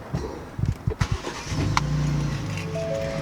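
A 2019 Ford Raptor with stock exhaust starts up: a few sharp cranking bursts, then the engine catches and settles into a steady, low idle rumble nearby.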